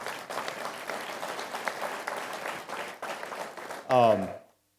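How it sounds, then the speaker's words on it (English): An audience claps steadily in a hall, a broad dense patter of applause, before it cuts off and a short loud burst of a voice over a microphone ends the sound. "go ahead, clap for it"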